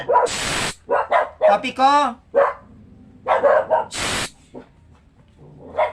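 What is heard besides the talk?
dogs barking at a person passing by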